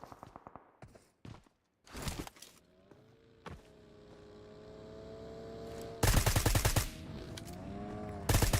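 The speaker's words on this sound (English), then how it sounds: "And Banger with some shots. Shotguns are in hand." Shotgun and other gunfire in the PUBG Mobile video game, with sharp reports early on, a rising engine-like drone, then a dense loud burst of rapid shots near the end.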